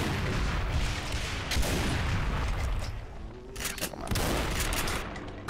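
Rapid bursts of gunfire and booming weapons in the DooM map set Hell Revealed 2, dense continuous shooting with explosions layered throughout, some voices faintly mixed in.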